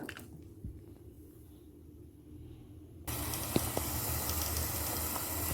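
Water poured into a pot of simmering tilapia fish curry with potatoes gives a sudden loud hissing sizzle that continues steadily after a quieter bubbling start.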